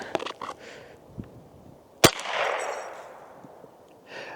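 Mossberg 702 Plinkster .22 rifle shots at steel targets outdoors, a few faint pops and one sharp crack followed by a soft ringing rush, fairly distant and sparse.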